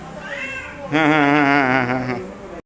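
A cat gives one long, loud, drawn-out meow close by. It follows a softer, shorter vocal sound at the start.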